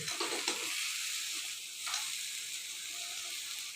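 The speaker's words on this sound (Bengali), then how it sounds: "এখন গুড় ঢেলে দিলাম পাঁচশো গ্রাম গুড় পাঁচশো গ্রাম দুধ দিয়ে এখন এভাবে ভালো করে নাড়তে হবে" Jaggery is stirred into mango pickle slices in a pan as the mixture sizzles steadily, with a few faint scraping stir strokes near the start and a continuous broad hiss throughout.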